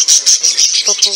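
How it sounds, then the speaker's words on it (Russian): Budgerigars chirp in a zoo aviary, a close, loud run of rapid high twittering notes in quick bursts, with a faint voice briefly mixed in near the end. "Попугайчики."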